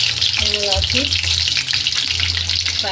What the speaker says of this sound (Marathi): फ्राय करून घेते मी व्यवस्थित. लालसर झाले पाहिजे अंडे.